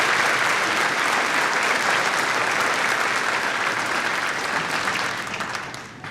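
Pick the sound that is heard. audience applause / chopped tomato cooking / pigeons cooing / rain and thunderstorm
audience applause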